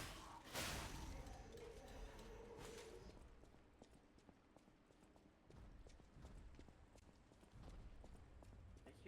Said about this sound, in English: I hear big footsteps.